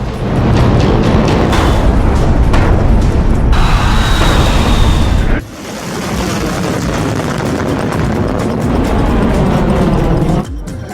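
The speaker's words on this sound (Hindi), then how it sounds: "वो चुन चुनकर इजराइल और अमेरिका के खिलाफ मिसाइल दाग रहा है।" Iranian missiles launch in strikes toward Israel with a loud, sustained roaring rumble. The sound breaks abruptly twice between shots, then resumes slightly quieter, with no speech.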